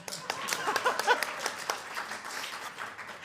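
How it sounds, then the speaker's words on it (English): Light, scattered applause from a congregation in a church sanctuary, a handful of distinct claps and a thin patter of hands, fairly faint, fading toward the end. "Well, you can applaud"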